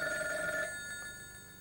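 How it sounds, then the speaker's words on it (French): A telephone rings in a French-dubbed Bob et Bobette cartoon, a clear electronic trill that fades away over under two seconds, with no voices. "Quelqu'un demande Nicky au téléphone"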